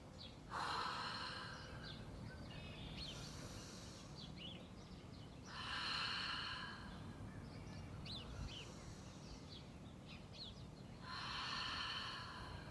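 Three deep breaths are taken in plank pose, each a slow audible airy inhale or exhale spaced a few seconds apart, with faint birdsong in the background.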